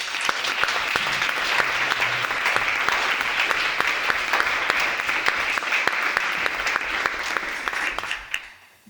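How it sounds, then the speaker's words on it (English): A room full of people applauding at a company Christmas party, dense sustained clapping with sharp individual claps standing out, continuing for several seconds before tapering off abruptly at the end. "So they're the ones that deserve the first round of applause."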